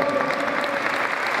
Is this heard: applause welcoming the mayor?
yes